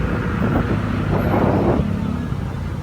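Steady road traffic rumbles around a Mio Gear 125 motorcycle riding through Metro Manila, with low engine and vehicle drone continuing loudly and evenly throughout.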